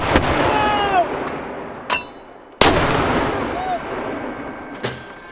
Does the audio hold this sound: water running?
no